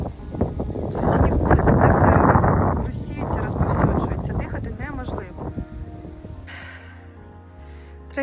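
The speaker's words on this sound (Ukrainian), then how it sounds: "вітер сильний" Strong wind roars and buffets the microphone at a landfill, loud at first then easing off, with a voice speaking over the gusts.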